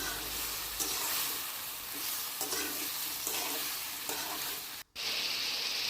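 Spices stirred and frying in a pan for a koi fish curry with potato and cauliflower, a steady close sizzle with scraping stir strokes repeating about once a second, briefly dropping out near the end.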